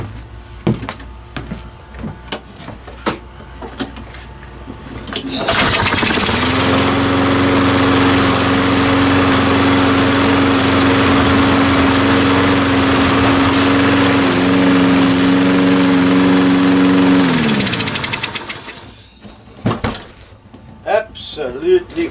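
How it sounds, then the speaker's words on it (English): A salvaged walk-behind lawn mower engine kicks over and runs loud and close for roughly twelve seconds, with a steady droning hum, before cutting out; clunks and a speaking voice come before and after the run. "I'm going to start it, I'm going to pull the lever to engage the wheels"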